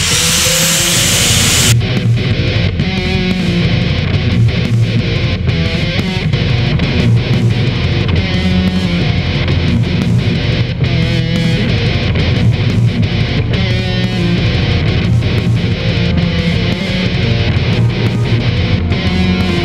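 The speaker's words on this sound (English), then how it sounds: "I'm just gonna grind in the little, the grid on this end of the hammer." An angle grinder cuts a crosshatch grid into the striking face of a steel sledgehammer, a steady loud grinding roar with repeated brief dips and bites as the disc is pressed in and lifted.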